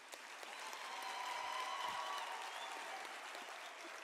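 Audience applause fills a hall at the University of South Africa autumn graduation ceremony, a steady, fairly distant wash of clapping that holds throughout.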